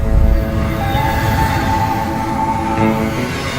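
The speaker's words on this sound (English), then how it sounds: "Behind me is another train going towards Bakersfield." A train heading toward Bakersfield through mountain country rumbles past nearby, a steady loud low roar with sustained tonal hum and a brief rise at the start, no voices.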